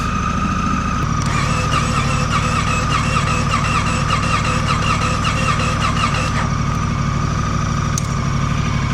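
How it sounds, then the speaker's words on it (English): A motorcycle engine cranks steadily for about five seconds without catching, a rapid rhythmic churning of the starter over a constant low hum, up close and loud, then the cranking stops. "you wouldn't expect it to crank for that long if the battery was knackered"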